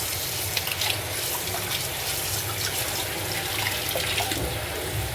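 Running tap water pours steadily into a sink as hands wash underneath it, a continuous close splashing hiss with no one talking.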